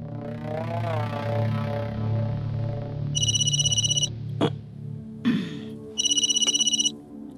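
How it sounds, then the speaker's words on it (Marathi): A phone rings with a call from the Chief Minister in a Marathi film scene: two bursts of rapid, bright electronic trilling over a low droning music bed, with a couple of soft thumps between. "सीएम साहेबांचा फोन आहे."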